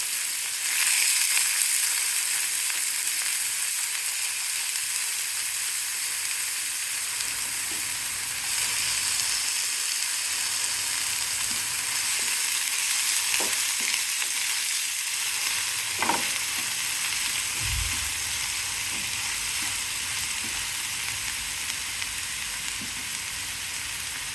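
Steady, loud sizzling of onions frying in hot oil for a tempering, continuous throughout, with a few clinks and stirring knocks.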